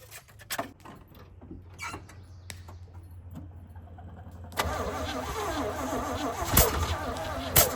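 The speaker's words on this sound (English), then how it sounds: "Battery cable doesn't have good connection, so I think that was our cranking problem." A 1980 Chevrolet K1500 truck that sat for 22 years cranks with a few uneven clicks and turns at first, then the engine catches at about four and a half seconds and runs loud and rough nearby.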